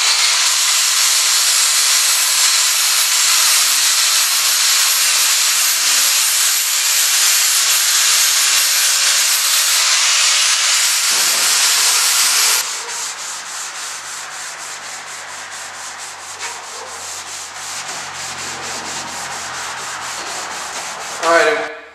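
Continuous loud sanding of a wooden contour for a homemade electric turbine, a steady abrasive rasp that later changes to a quieter, choppier rubbing with short strokes.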